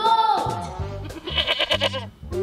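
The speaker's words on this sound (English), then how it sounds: "Goat is a farm animal." A goat bleats loudly and close in a wavering, nasal cry, followed by a burst of quick, stuttering bleats, set within a bright children's cartoon soundtrack with music around it.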